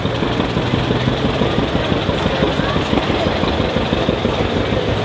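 A 1964 International 806 tractor engine idles with a steady, rhythmic chugging knock, loud and close, running continuously without changing pace.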